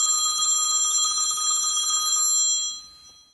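A cell phone rings from inside a shopping bag, muffled under a sweater, a steady electronic trill that holds for about two seconds before fading out, with no talk over it.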